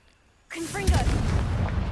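A Confringo blasting spell in Hogwarts Legacy bursts with a sudden loud boom after a quiet moment, and a spoken incantation is mixed in over the rumbling blast.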